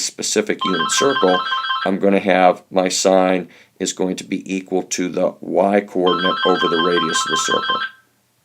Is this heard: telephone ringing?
yes